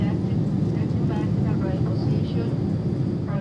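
A steady, loud, broadband cabin drone fills an older Avianca Boeing 787-8 Dreamliner wide-body in flight between Bogota and New York, about fourteen minutes before landing, with faint murmuring voices underneath.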